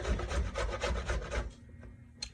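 Zucchini rubbed by hand over a grater for a zucchini, coconut, carrot, raisin and walnut bread, heard as a quick run of rhythmic rasping strokes close up. The strokes stop after about a second and a half, followed by a light knock.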